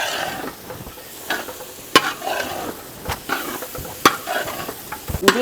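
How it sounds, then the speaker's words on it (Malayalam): Tuna pieces being stirred into a spicy pickle gravy with ginger, garlic and pepper, giving intermittent wet scraping and clacking strokes of a spoon against the pan, close and fairly loud with no talk. "നമ്മുടെ ഗ്രേവിക്കകത്തേക്ക് മീനിടുവാണ്. ഫുള്ളായിട്ട് മിക്സ് ചെയ്യുക അല്ലേ?"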